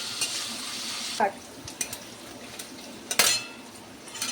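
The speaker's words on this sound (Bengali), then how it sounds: "পেঁয়াজটা একটু লাল লাল করে ভেজে নিই" Onions fry in a pan until reddish-brown, giving a steady sizzle at first, then quieter frying broken by metallic clinks and scrapes of a spatula stirring against the pan.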